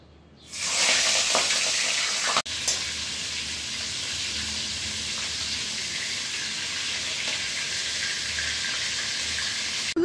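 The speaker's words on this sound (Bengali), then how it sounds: "এবার এই তেলে আমরা প্রথমে চিংড়ি মাছগুলো ভেজে নেব" A loud sizzle erupts suddenly and settles into a constant, dense frying hiss, with a brief click early on.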